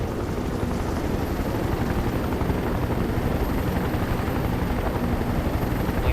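Military helicopter rotor and engine noise from the Cold War strategy game World in Conflict, a steady, loud, continuous thrum that holds throughout with no break.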